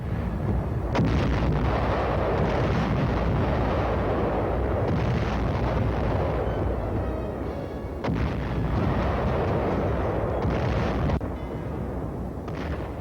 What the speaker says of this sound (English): our artillery pounded and repounded the enemy defenses guarding San Pietro